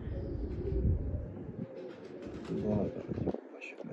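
Slate-coloured Bichu breed pigeons cooing in a loft, soft repeated throaty coos mixed with faint chirps, with someone talking over them.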